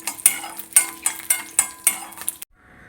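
Cashews and raisins stirred in hot ghee in a pan for Kerala ada pradhaman payasam, a run of regular scraping stirs with spoon clinks over a light sizzle, then it stops into quiet.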